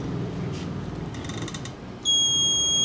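A Dongcheng DCPB358EM cordless impact wrench set to auto stop gives a steady, loud, high-pitched electronic beep that starts abruptly and holds after a stretch of low background noise and faint clicks.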